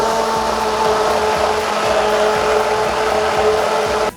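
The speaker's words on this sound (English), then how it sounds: "So I'm just going to blend this here." An immersion blender whirs steadily through sea buckthorn berries, a loud, even motor hum with a buzzing, grinding texture that runs without pause for about four seconds before cutting off abruptly.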